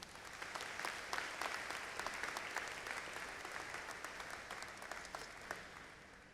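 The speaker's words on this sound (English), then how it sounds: "Let's give them a round of applause." Applause from the audience at a university convocation ceremony comes through as a soft, even wash of many hands clapping, sustained and slightly distant for several seconds.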